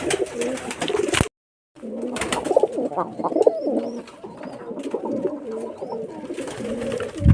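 Giribaz pigeons from Rajshahi cooing indoors in a loft room, a close chorus of overlapping throaty coos with wing flutters and brief sharp knocks, one short gap of silence.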